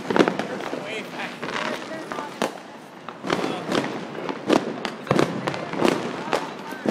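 New Year's fireworks and firecrackers bursting all around in backyards across the Netherlands, a dense run of sharp near and distant bangs and crackles at irregular intervals, with faint voices in the background.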